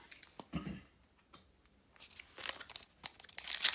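Foil wrapper of a Pokémon Sword and Shield Vivid Voltage booster pack being torn open, with a few sharp rips and crinkles close up, separated by brief quiet pauses.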